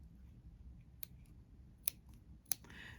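Scissors slowly snipping Hardanger embroidery fabric at an angle, a few sharp, sparse clicks spaced about a second apart over a quiet background.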